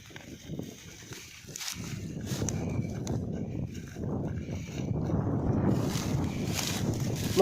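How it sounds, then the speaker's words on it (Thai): Strong wind blusters across an open field during kite flying, a dense continuous roar of gusts buffeting the microphone, steady and loud throughout. "ลมโคตรแรง"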